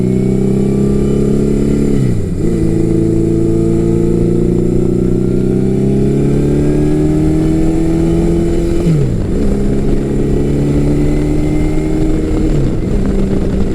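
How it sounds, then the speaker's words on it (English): A Yamaha XJ1100 Maxim motorcycle engine, heard up close while riding, hums loudly as revs climb steadily, then drops sharply at each gear change, about three shifts in total. "One thing that this XJ1100 does is it picks up revs and drops revs very quickly."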